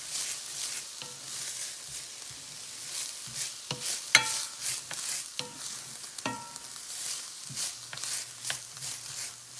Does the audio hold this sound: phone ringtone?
no